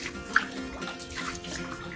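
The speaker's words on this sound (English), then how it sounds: "Just getting the water out, doing it the old-fashioned way" Dirty water scooped by hand out of a garden fountain basin, with close splashing, sloshing and dripping water, moderately loud and continuous, with one sharper splash near the start.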